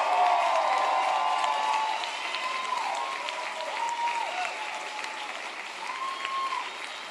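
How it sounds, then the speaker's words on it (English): Crowd applause and cheering for military members at a Fourth of July celebration at the White House, loud sustained clapping from a large outdoor crowd, tapering slightly, with scattered whoops. "Please give them a big round of applause."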